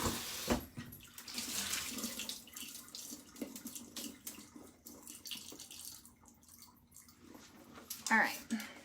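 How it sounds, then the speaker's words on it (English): Tap water runs into a kitchen sink while raw chicken legs are rinsed, a soft uneven splashing and trickling that rises and falls with handling, fairly faint and close. "we'll give these guys a good rinse"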